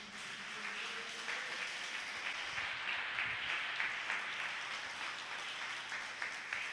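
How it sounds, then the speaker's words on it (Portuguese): A church congregation applauds steadily throughout, a dense, even wash of clapping held at moderate distance with a faint voice briefly surfacing beneath it. "Aplaudam o Senhor."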